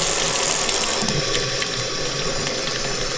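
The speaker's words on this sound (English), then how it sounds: "let's turn a little bit of water on" Water runs steadily from a sink tap, a constant close splashing hiss with no pauses.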